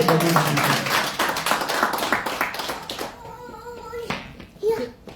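A church congregation claps in rhythm and acclaims God during a Sunday service, a dense run of claps with cheering voices that thins out and gives way to sustained singing or voices near the end.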